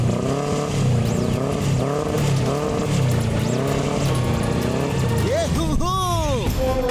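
A cartoon motorbike engine revs in rising and falling surges, loud and close, with voices over it.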